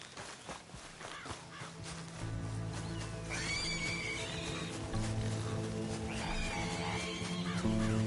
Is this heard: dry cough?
no